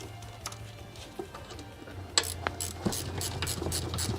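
A hand ratchet clicks in short runs while a bolt is run in during alternator and cooling work on a Nissan 200SX in a garage, close and moderately loud over a low background hum, with no speech.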